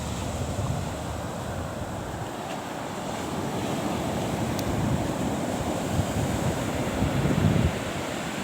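Sea waves surge and crash continuously at Dhobula Gada beach in Balasore, a steady loud roar of surf with wind buffeting the microphone, building slightly toward the end with no voices.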